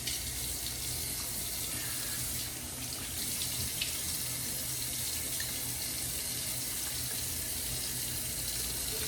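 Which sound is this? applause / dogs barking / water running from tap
water running from tap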